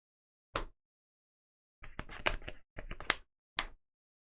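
A deck of KeyForge cards is shuffled during a tabletop match, heard as short riffling bursts: one brief flick, then a longer clustered run of crisp rustles and snaps, ending in a final quick burst, fairly quiet with no talk.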